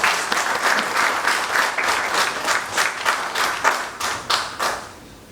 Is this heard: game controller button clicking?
no